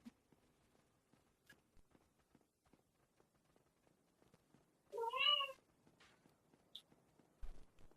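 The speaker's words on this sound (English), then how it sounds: "And here's my kitten." A kitten gives one clear, rising-and-falling meow midway through an otherwise quiet stretch with faint soft taps and footsteps.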